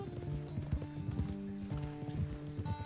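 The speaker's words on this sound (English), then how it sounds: "You're gonna hear a couple horses thunder hoofing down the old alleyway in between your fields." In the Red Dead Redemption 2 game, a couple of horses gallop down an alley between fields, their hooves clip-clopping in quick, steady beats under a soft musical score, fairly quiet overall.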